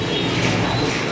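Opal-coloured bondinet fancy pigeons, a male and female pair, give soft close cooing over a steady murmuring background for about a second.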